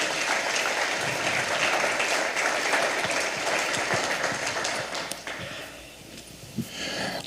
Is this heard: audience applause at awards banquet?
yes